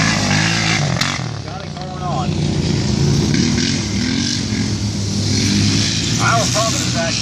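A vehicle driven by Zach roars steadily nearby, a loud continuous engine drone with some revving, while voices talk over it throughout.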